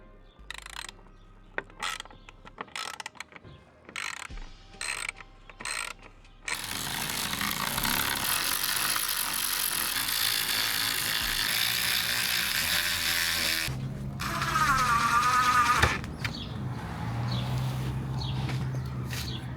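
A wrench works bolts on a carbon fiber front lip kit, starting with quick ratcheting clicks, then giving way to a long steady mechanical whir and a brief squealing scrape, close up with no voices.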